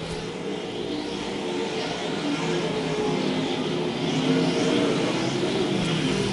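Stock cars and modified racers roar down the front straightaway at Lakeside Speedway, a continuous loud engine drone that swells slightly as the field passes, with no clear voices over it.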